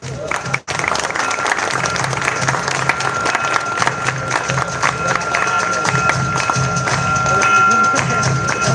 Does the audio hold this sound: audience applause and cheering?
yes